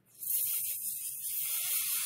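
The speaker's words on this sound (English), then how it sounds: "So I'm going to spray" A steady aerosol spray hisses onto the back of wool felt for machine-embroidered dolls, starting abruptly and continuing close and even for about two seconds.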